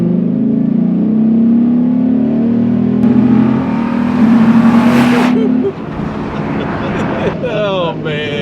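The Viper-powered 510 hp Dodge Ram SRT-10 pickup rumbles with a deep, loud engine drone that climbs in pitch as it accelerates, then drops off as revs fall, with people talking and exclaiming over it.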